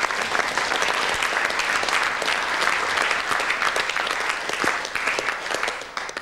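An audience claps steadily for several seconds, a dense, lively round of applause with no talking.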